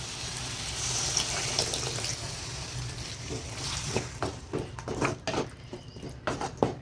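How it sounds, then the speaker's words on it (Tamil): Water runs and splashes into a cooking pot of Tamil egg kulambu with radish, a steady watery pour at first, breaking into patters and drips toward the end. "இப்போ நம்ம தேவையான அளவு தண்ணி ஊற்றிக்கலாம்."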